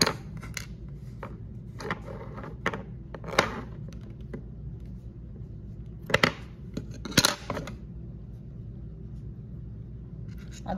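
Scissors snip the thread on a handmade rakhi in a quiet room, a handful of short, crisp cuts up close, some grouped in pairs, with soft handling noise between them.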